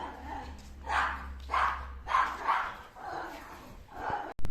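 A dog barks repeatedly at a rural Punjabi home, about six loud close barks in an uneven rhythm, with a voice talking between them.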